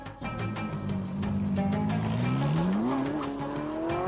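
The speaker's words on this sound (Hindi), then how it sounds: "अभी देखो लग्जरी गाड़ी आ रही है" A luxury car approaches, its engine note rising steadily in pitch as it draws nearer, with tyre noise and a loud, continuous roar filling the whole stretch.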